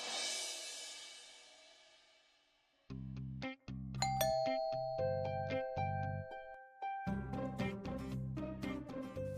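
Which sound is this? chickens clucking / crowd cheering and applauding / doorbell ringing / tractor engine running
doorbell ringing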